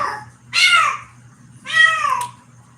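A cat gives two short, loud, barking meow-like calls about a second apart, each a sharp harsh burst, close by against a quiet low hum.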